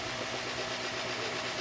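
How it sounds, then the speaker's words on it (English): A Hyundai Tucson engine with a fault that keeps it from accelerating past 1000 RPM runs with a steady, low, fairly quiet hum that barely changes over a brief moment, with no clear rise in revs. "Can you rev it up a little bit?"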